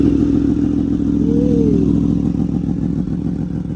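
A Yamaha R1 with a modified exhaust barks into life and holds a loud, close, rough idle, with a short rising rev near the middle, and no one speaking.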